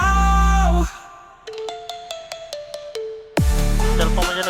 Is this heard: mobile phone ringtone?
yes